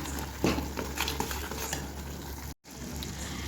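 Masala sautéing in a pan, a continuous sizzle with scraping stirs and a clink of the utensil against the pan, close and steady, broken by one very brief dropout.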